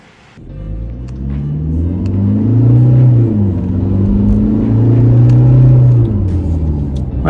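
Dyno-tuned Toyota N80 Hilux out on a road test drive, its engine rumbling steadily and swelling through two drawn-out rises in revs, heard from inside the cab with no talk.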